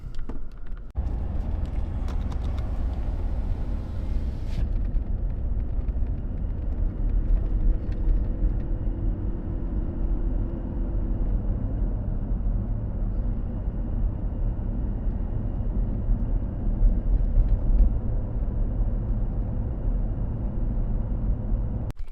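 A truck driving along a road in northwest Montana, a steady low engine and tire rumble heard from inside the cab, continuous and even with no talking.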